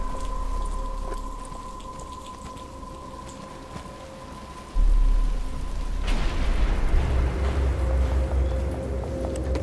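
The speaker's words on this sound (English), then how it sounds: "But it's starting to rain." Steady rain falls in the video game Batman: Arkham Asylum, a continuous hiss that grows louder and denser partway through, with low rumbling underneath and no talking.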